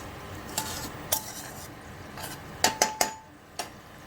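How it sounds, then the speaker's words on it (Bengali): Spice masala with poppy seed paste stirred in a pan for shukto, giving a handful of sharp metallic spoon scrapes and clinks against the pan, clustered near the end over a quiet background. "পোস্ত বাটাটা দিয়ে ভালো করে এবার কষাবো একটু মশলাটা।"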